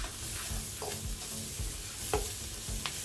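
A seafood boil sauce with sugar and butter fries in a pan, a steady close sizzle broken by occasional stirring scrapes and clinks, with no talking.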